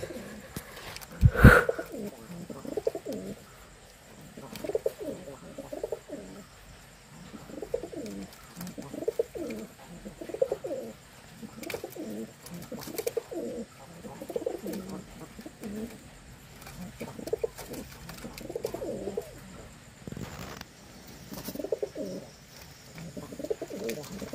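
A male Jalali pigeon coos repeatedly in steady, low, throaty phrases at moderate distance, with a sharp knock near the start and faint background noise.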